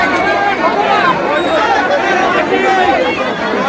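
A dense crowd packed into a train carriage at the Thakurnagar Mela fills the space with loud, continuous overlapping chatter and babble, many voices close by with no pauses.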